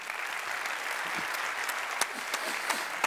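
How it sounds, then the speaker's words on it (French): Steady applause fills an award ceremony hall for a prize for professional integration, a dense even wash of clapping from a sizable audience with a few louder nearby claps. "je vous remercie de l'applaudir in absentia"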